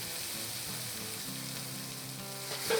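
Chopped sausage frying in oil in a pan, a constant dense sizzle close up with faint crackles that swell slightly at the very end.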